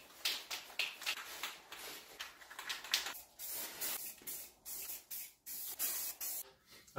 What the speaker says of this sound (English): So I'm going to hit it with this stuff here. Okay, 3-in-1 gray primer.